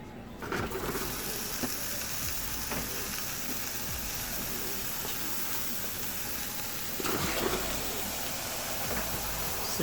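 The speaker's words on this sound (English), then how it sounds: "you want to go ahead and put the meat in the pot." Six pounds of meat dropped into a hot pot for tamales, bursting into a sudden loud sizzle that settles into a steady hiss, with a brief extra flare of sizzling near the end.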